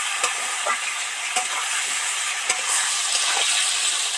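Small vegetables sizzle and fry in hot oil with a pinch of salt, a steady bright hiss punctuated by a few sharp stirring clicks and scrapes, close and uninterrupted by speech.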